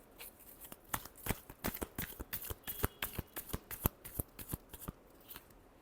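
A deck of tarot cards is shuffled by hand in a quick run of crisp riffling snaps and flicks. The sound is close and uneven, with no voices.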